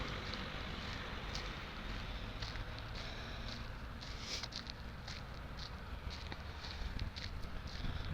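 Steady broadband wind rush buffeting a microphone outdoors on a sunny spring day in Poland, continuous and fairly loud, with faint patter and rustling underneath and no talking.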